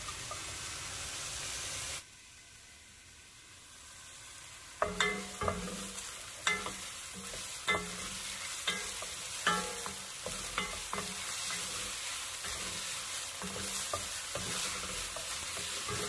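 Celery and onion sizzle in about a tablespoon and a half of oil in a preheated soup pot, a continuous hiss broken by repeated scrapes and knocks of a stirring utensil, close and moderately loud, with no voices.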